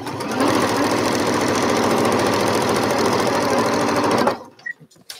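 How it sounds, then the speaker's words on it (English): A sewing machine stitches quilt blocks together in a fast, steady mechanical whir with rapid needle chatter, running loud and continuous before stopping abruptly near the end. "So now I'll put these 2 together and stitch them."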